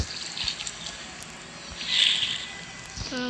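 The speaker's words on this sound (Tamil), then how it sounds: "ஐயோ தண்ணிக்குள்ளே விழுந்துட்டேனே" Water sloshes and splashes as a player character drops into water in Minecraft, a soft watery rush swelling midway, with faint drips and a brief bubbly trickle near the end, no voices.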